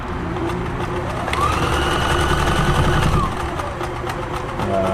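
A Kenmore 1350 sewing machine runs a blind hem stitch, giving a steady mechanical hum with rhythmic needle clatter that swells briefly mid-run before settling back.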